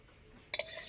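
A lid comes off a clay cooking pot used to steam chicken, two quick close clinks in a quiet kitchen.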